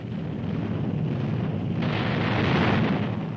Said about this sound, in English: The Yorktown is hit. Damage control parties fight to save the ship. Then the Japanese torpedoes come in.